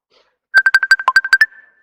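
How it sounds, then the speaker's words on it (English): A short, bright electronic phone ringtone plays close by at a conference: a fast run of about ten chiming notes that trails off into a thin fading tone. "somebody's phone is ringing"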